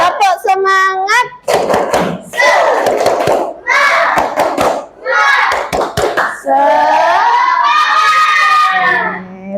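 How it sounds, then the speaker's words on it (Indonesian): A class of fifth-grade schoolchildren performs a rhythmic spirit clap, loud patterned hand claps alternating with chanted group voices, close and energetic before a final burst of cheering. "Tepuk semangat."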